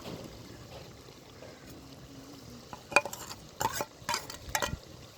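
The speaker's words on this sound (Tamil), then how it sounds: "சேர்த்து நல்லா எண்ணெயிலே வதங்கட்டும் சின்ன வெங்காயம் பேஸ்ட்டாக சேர்த்துக்கும் போது" Crushed shallot paste stirring and frying in oil in a mud pot for chicken biryani, with a soft sizzle underneath and several sharp scraping clinks from a utensil near the end, close up and without speech.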